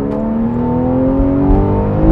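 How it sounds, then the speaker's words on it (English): A car exhaust roars steadily as the engine is revved hard, a loud, close drone with rising harmonic tones and no talking over it. "you do really have to get the revs up to really hear it roaring at you"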